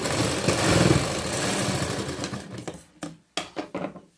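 A sewing machine stitches a blouse seam in a fast, steady whirring run that slows into short stop-start bursts with brief silences between them.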